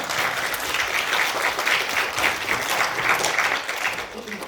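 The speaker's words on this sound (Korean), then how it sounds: "우리 하나님께 영광의 박수 드리겠습니다" Steady applause from a congregation at a university chapel service fills the whole stretch, dense clapping holding an even, fairly loud level without pause.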